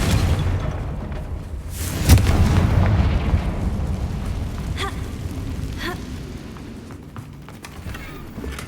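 Confringo fire spell from the Hogwarts Legacy video game bursting in a loud boom about two seconds in, followed by a sustained rumbling roar and scattered crackling impacts over a dense game soundscape.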